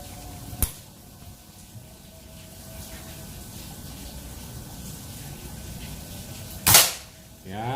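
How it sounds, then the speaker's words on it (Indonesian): Two sharp shots from a folding Predator Python 40 cm PCP air rifle with a 2700 psi dural tube, crisp cracks about six seconds apart over quiet background noise, the second louder. "Tembakan yang kelima"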